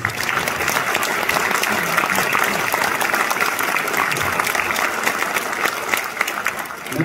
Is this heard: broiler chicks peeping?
no